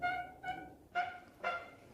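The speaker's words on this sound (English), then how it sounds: "We think we have debunked the weird squeaky duck sound. I think it was this door here." An old door in an abandoned house squeaks in four separate creaks, each a short nasal, honk-like whine much like a duck's quack, spaced about half a second apart and heard at moderate distance with no talking.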